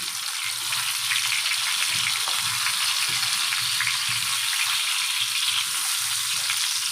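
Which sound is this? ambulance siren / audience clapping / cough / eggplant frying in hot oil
eggplant frying in hot oil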